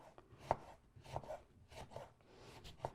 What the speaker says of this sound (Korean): 레몬만 좀 썰을게요